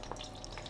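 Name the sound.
breadcrumb sizzling in hot frying oil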